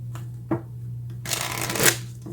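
Tarot cards being shuffled in a tarot reading, a quick riffle of papery flutters that swells to a loud burst near the end, heard close over a low steady hum.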